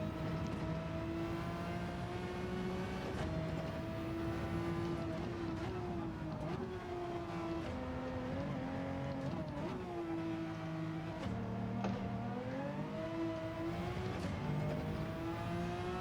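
A Pagani Zonda R's engine screams through gear changes in Gran Turismo 7 on the Sardegna Road track, a loud continuous high-revving whine rising and dropping in pitch with each shift, heard alone without talk.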